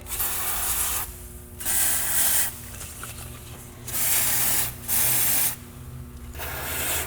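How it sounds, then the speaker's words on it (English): Penetrating oil sprayed onto front axle, wheel bearing and hub parts of a 2005 Toyota 4Runner: four or five close, loud hissing aerosol bursts of about a second each, separated by short pauses. "I'm gonna start with penetrating oil and hit everything I'm going to remove with a little bit of this"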